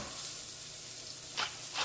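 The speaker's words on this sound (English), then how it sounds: "you're going to saute well until the onions have softened and are translucent" Thinly sliced onion sautés in hot oil with salt, giving off a steady close hiss of sizzling, with two brief louder bursts of crackle near the end.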